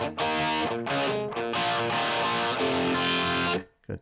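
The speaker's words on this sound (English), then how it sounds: "now I get a little phaser on here." A distorted electric guitar through a Line 6 Pod Express with a phaser effect plays sustained chords with a sweeping, swirling sound, loud and alone, then cuts off near the end.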